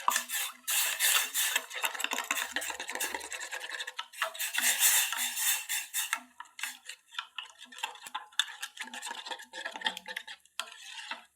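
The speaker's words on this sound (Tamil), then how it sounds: "எடுத்துட்டு நல்லா வந்து கிளறி விடணும்." A black urad dal powder mixture is stirred in a pot, making quiet, repeated rasping scrapes against the metal in uneven strokes, close by and with nothing else heard.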